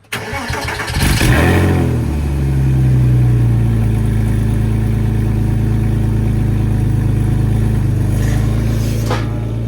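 A 2003 Porsche 986S with its secondary catalytic converters removed cold starts with a crank and catch, flares briefly, then settles into a loud, steady, deep idle, close up and alone.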